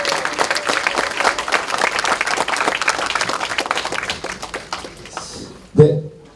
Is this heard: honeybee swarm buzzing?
no